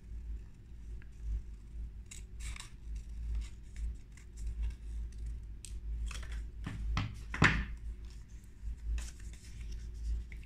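Scissors snipping through the paper neck of a pop-up dragon, a few faint close cuts and paper rustles over quiet room hum, with one sharper snip near the end.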